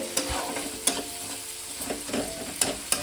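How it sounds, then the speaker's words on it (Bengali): Chopped tomatoes fry in a pan with salt for a Bengali fig-and-shrimp dish, a soft sizzle underneath while a spoon scrapes and stirs in several distinct strokes, close and unhurried. "টমেটো কুচি দিয়ে মিনিট 2 ভালো করে টমেটোটাকে নেড়ে"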